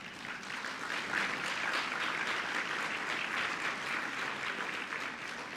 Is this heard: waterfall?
no